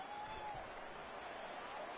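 A stadium crowd at a San Diego State versus Utah State football game roars after a blocked punt, a dense, sustained wash of cheering that holds steady and loud throughout.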